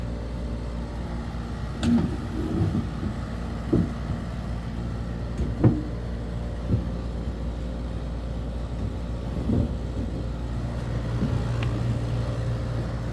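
A Kenmore 7k rotary air conditioner runs in a shed with a steady low mechanical hum, punctuated by a few soft clicks and knocks.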